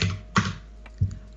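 Three sharp, close keystrokes on a computer keyboard, spaced unevenly with brief pauses between them, against a low steady hum.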